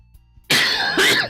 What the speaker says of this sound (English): I got a bad cough today.